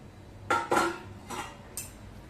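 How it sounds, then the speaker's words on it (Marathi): Metal lid lifted off a pan in which an eggless mango cake is baking, giving a few close clanks and clinks: two sharp knocks, then a softer scrape and a final light tap. "झाकण उघडून बघूया."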